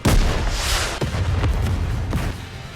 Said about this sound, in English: Vesti's rocket launcher cuts through the horde. What an explosion!